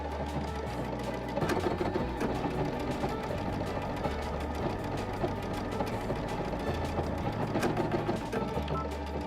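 Baby Lock Destiny HD computerized sewing machine stitching a pattern, a steady rapid mechanical whir with regular low pulses running continuously and fairly loud throughout, no talking.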